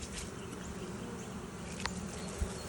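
Honey bees swarm around an open hive frame in early March, a dense, steady buzzing that holds at close range for the whole stretch, with a couple of faint knocks from the woodwork.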